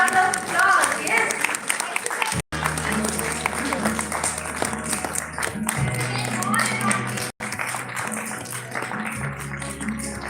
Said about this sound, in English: Please clap. Yes, please, big round of applause.